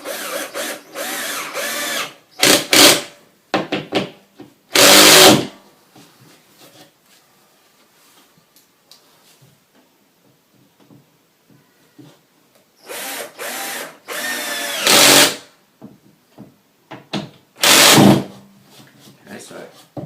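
A power drill drives a screw through plasterboard into a support behind it in several short whirring bursts separated by pauses, close and loud, while a person talks between the bursts.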